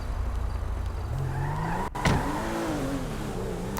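Car driven in GTA 5 on PC, a steady engine drone that rises in pitch as it accelerates, with a brief tire skid and a thump midway, no talking.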